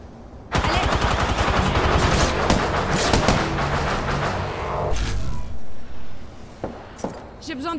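Rapid automatic gunfire from an Apex Legends match, dense sustained bursts and shots close up, fading into sparse pops and whooshing game effects near the end.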